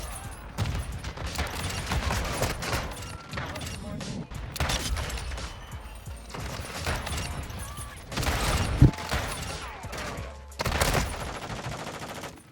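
Gunfire in the video game Modern Warfare 2, repeated bursts of rapid shots and sharp bangs spread through the stretch with short pauses, loud and close, mixed with talking.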